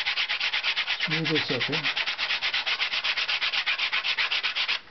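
Steady back-and-forth sanding with 150-grit Imperial Eastman sandpaper, a dense rhythmic rasp of quick regular strokes, close and loud throughout, with a brief spoken remark early on.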